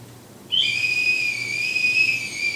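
A tea kettle breaks into a shrill, steady whistle after a half-second of quiet, holding one high piercing tone close by and alone.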